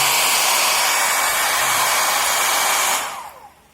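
Mini hair dryer running on its strong setting, a loud steady blowing whoosh that holds for about three seconds, then spins down and cuts off, with no talk over it.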